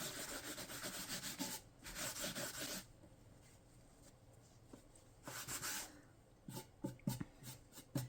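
Cloth rubbing and wiping dark wax back across an Ikea cabinet, close scrubbing strokes in bursts with a quiet pause in the middle, then short rubs and taps.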